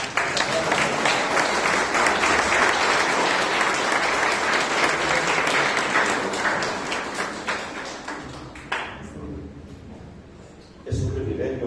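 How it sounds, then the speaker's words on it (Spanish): Sustained applause from a church congregation welcoming the pastor at an anniversary service: a full, loud crowd of clapping hands rolls on for several seconds, then dwindles to scattered claps before a voice begins speaking. "Así que nuevamente un fuerte aplauso."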